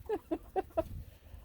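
Chickens on a farm clucking close by: four quick, evenly spaced clucks, then quiet, no talk.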